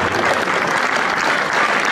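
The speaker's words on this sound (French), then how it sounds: "On les applaudit naturellement bien fort." A crowd at a local sports awards ceremony claps loudly and continuously, a thick, even burst of applause lasting a couple of seconds with no speech.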